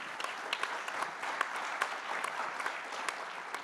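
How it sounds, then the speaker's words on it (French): A conference audience at a cooperative congress applauds steadily, a dense even patter of many hands clapping with no talk over it. "Oui, on peut l'applaudir, bien sûr."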